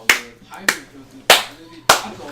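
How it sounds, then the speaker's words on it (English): Four sharp hand claps ring out at uneven intervals during an esports match broadcast, each a crisp close snap that fades quickly into a quiet room. "Claps."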